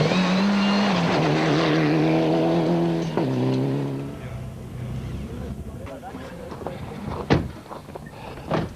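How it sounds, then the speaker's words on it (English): A Toyota rally car at the 2004 Cape Rally runs rough with its intercooler pipe come off, the engine droning unevenly then dropping away, followed by scattered clunks and a sharp knock as people talk nearby. "as Ben came by, the car wasn't sounding too healthy at all"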